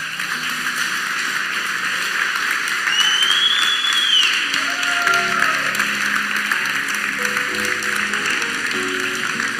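Church congregation applauding after a sermon, a steady broadband wash of hand claps that holds loud and even throughout, with faint voices mixed in.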